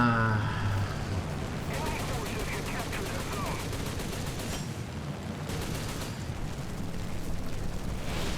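War Thunder air battle with bomb explosions and rapid gunfire, a dense roar of blasts and bursts of fire continuing throughout, loud and close, with someone talking over it.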